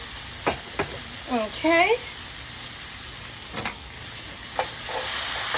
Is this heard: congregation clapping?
no